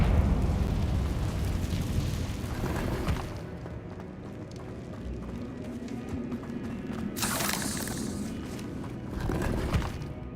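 Confringo blasting spell exploding in a Harry Potter video game, a loud rumbling burst layered over dense game ambience, with further bright crackling flares later in the clip.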